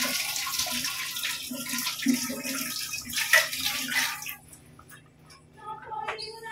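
Hands being washed under a running kitchen tap while cooking mung bean soup, a steady close splashing of water that cuts off partway, leaving faint drips and small clatters.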